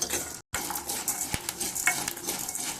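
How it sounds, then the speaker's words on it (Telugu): Peanuts and lentils roasting in a little oil in a pan, a continuous soft sizzle with scraping and clinking as a spoon stirs them, briefly interrupted once. "2 స్పూన్లు పల్లీలు వేపుకుంటున్నానండి"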